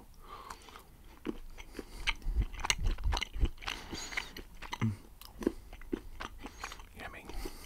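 Solid chocolate with a caramel centre is bitten and chewed up close, giving sharp crunchy snaps followed by soft wet chewing, with occasional quiet speech between bites.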